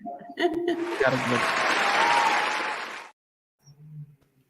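A burst of applause-like clapping lasting about three seconds, fairly loud and dense, followed by a short pause and a brief voice.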